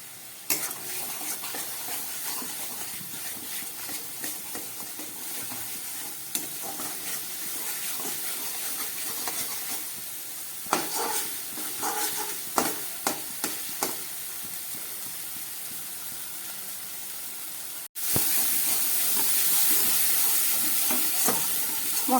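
Spice paste with turmeric and salt sizzling and frying in a pan for a Bengali katla fish curry, stirred continuously with scraping spoon strokes, steady close sizzle with louder stirring bursts and no talking.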